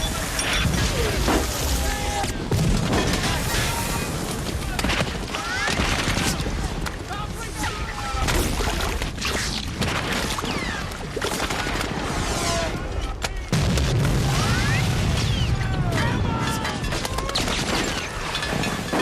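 War-film battle on a D-Day beach landing, dense continuous gunfire with machine-gun bursts, bullet whooshes and impacts, crashing debris and surf, loud and chaotic throughout, with a brief darker low rumble near the end.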